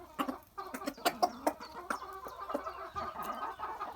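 Minorca hens, a Spanish egg-laying breed, cluck and murmur in a yard, repeated short clucks and bursts at close range with softer calls between.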